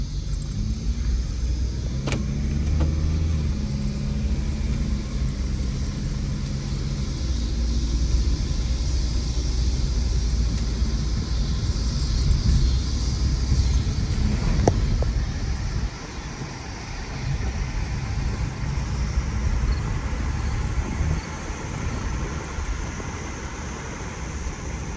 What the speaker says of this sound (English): Let me get the hood down and we're gonna go for a test spin.